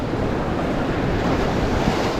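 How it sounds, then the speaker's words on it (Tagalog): Steady roaring surf with rushing wind noise, a continuous wash of rough ocean waves while fishing for blue runners, with no voices. "Sobrang alon."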